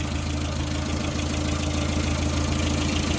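A Land Rover Series IIa 109-inch with its 2.25 petrol engine, warmed up and idling, gives a steady even thrum with a regular low pulsing beat, heard close and alone without interruption.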